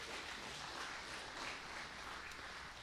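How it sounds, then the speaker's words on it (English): Church congregation clapping hands in praise during a sermon, a faint, steady wash of many hands from a distance with no clear individual claps. "Give God a hand clap of praise in this place."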